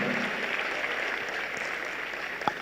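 Audience clapping at a live summit event, a soft, moderately distant wash of applause that runs steadily, with one sharper knock near the end.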